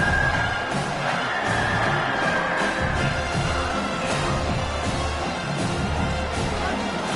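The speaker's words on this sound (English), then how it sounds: "Decibels rising as the crowd gets behind this defense on 3rd down." Stadium crowd in a college football video game roars steadily through a third-down defensive stand, a dense continuous wall of cheering with swelling surges and occasional whoops.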